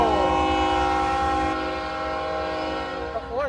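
A passing train sounds its horn in a loud, sustained multi-tone blast that holds for several seconds, close by, over the rumble of the rail cars, with a brief voice near the end.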